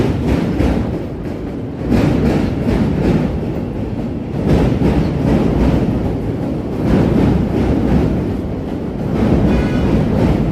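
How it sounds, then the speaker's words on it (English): A Chicago Green Line elevated train crosses the Wells Street Bridge with a loud, close, rumbling roar and rhythmic clacking wheels over the rails that rise and fall in repeated surges. "So there's the green line heading across the Wells Street Bridge"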